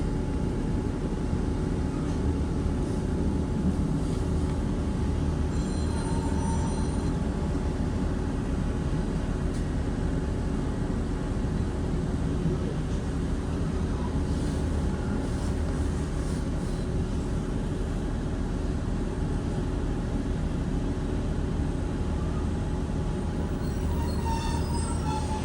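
A Northern train pulls into Mills Hill station with a steady, loud rumble of wheels on rails and a sustained rolling drone, faint squeals showing now and then throughout.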